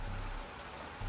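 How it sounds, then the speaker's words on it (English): Steady rain falling outside at night, a constant close hiss of drops on surfaces filling the short stretch without any talk. "it's starting to rain pretty good outside"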